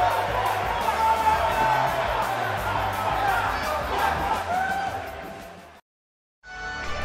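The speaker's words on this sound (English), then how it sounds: "We've got an animated crowd here tonight" A WWE 2K18 arena crowd in Orlando keeps up a dense, loud roar of cheers under a commentator's voice, swelling and holding until it cuts out abruptly near the end.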